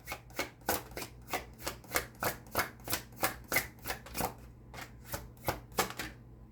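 Tarot cards are shuffled in a quick, even rhythm of crisp riffling bursts, about a dozen in close succession, near and fairly quiet, with no talk.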